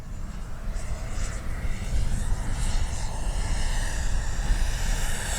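A twin electric ducted fan RC F-15 jet, the Arrows RC 64mm model, makes a steady whooshing, whining pass overhead, loud and continuous with a slight rise and fall.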